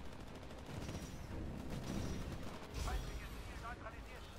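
Titans firing heavy gunfire in the video game Titanfall, a dense run of rapid shots and mechanical clatter under steady game noise, with a voice talking over it.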